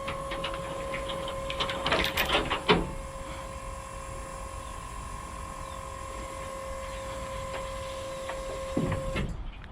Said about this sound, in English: we're going to lift it up to bring it out of the travel latch, and then unfold. We go up and this way with the upper toggle switch.